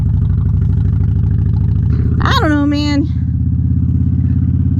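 Motorcycle engine running steadily close by while riding on an open road, a constant low thrum throughout, with someone talking over it and a brief rising high whine in the middle.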